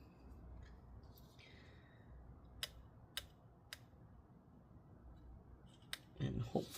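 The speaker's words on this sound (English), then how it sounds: "I'm gonna cut from both sides this time" Cutting during disassembly of a Razer Blade Stealth RZ09-0168 laptop, heard as a few sharp isolated snips over a faint low hum, followed by some louder handling noise at the end.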